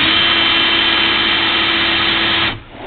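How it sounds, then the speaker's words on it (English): A power drill on a high setting cuts the primer-pocket crimp from 223/556 brass, giving a loud, steady whirring hum for about two and a half seconds before it stops abruptly. "Just take your drill, put it on a higher setting,"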